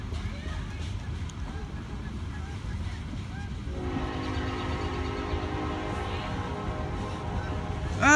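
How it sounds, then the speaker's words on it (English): A southbound Norfolk Southern coal train in Richlands, Virginia rolls past with a constant rumble, and a sustained horn blast begins midway and holds to the end. "So, it's the fourth train today."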